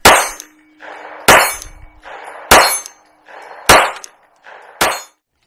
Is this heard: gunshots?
yes